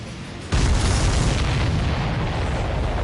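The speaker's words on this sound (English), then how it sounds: "Did you see that explosion? Looks like that's one of them down." A sudden loud boom of a supply ship exploding in Ace Combat 7: Skies Unknown bursts in after a brief quiet, followed by a sustained roaring rumble that slowly fades.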